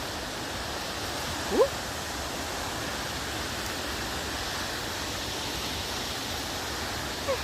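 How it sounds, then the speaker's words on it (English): Water pours at a waterfall as a steady, broad rushing roar that fills the whole clip, with a brief exclamation from a voice early on. "you can hear that sound of the water"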